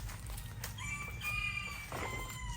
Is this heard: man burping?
no